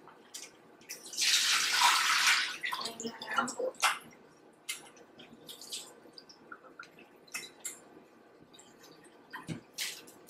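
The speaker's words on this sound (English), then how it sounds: "I give them a nice scrub just like this." Fresh mussels scrubbed by hand in a bowl of water at home: a burst of splashing and swishing early on, then intermittent scraping, sloshing and drips, fairly close and moderately quiet.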